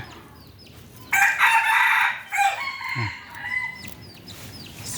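A rooster crows loudly and close by, a long bright call, while chickens cluck around it on a farm. Softer clucks and bird sounds continue afterward.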